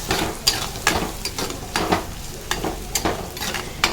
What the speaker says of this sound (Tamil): இப்போ நான் 2 பழுத்த தக்காளி எடுத்து நல்லா சின்ன சின்னதாக கட் பண்ணி வச்சுருக்கேன். அதை இதோட சேர்த்துட்டு நல்லா வதக்கி விட்டுறலாம்.